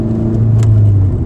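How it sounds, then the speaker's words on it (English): A loud low engine drone and tire roar from a moving Ford Focus ST with an Invidia Q300 exhaust, steady and close, with a faint exhaust hum underneath. "like the road noise is louder than my exhaust right now"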